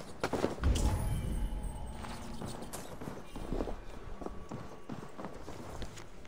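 A horse's hooves clip-clopping in the video game Assassin's Creed Valhalla, a steady rhythmic gait of close, moderately loud hoofbeats over a low ambient rumble.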